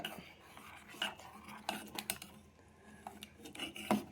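A spoon stirs thick ragi porridge in a pot, giving repeated soft rasping scrapes and occasional light knocks against the pot in an uneven rhythm throughout.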